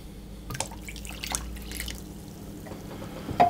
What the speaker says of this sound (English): And into that, I'm going to pour my milk and 200 millilitres of the water.